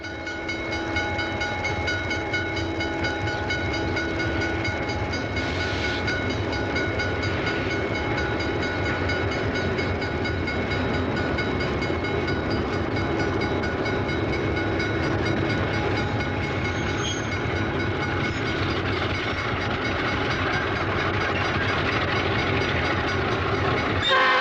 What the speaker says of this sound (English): The train gets underway after a brief stop.